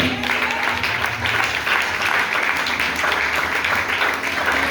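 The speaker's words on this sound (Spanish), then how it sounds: "Den un aplauso a Cristo" A church congregation applauds for Christ during an evangelist's sermon, a steady dense roar of many hands clapping together without a break.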